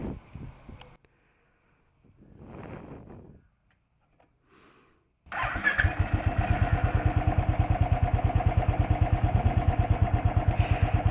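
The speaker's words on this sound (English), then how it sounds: "Let me crank it for you." A Royal Enfield Thunderbird 350 motorcycle engine catches after a few faint cranking sounds and settles into a loud, close, rhythmic thumping single-cylinder idle.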